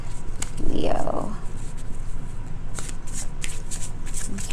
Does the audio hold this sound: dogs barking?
no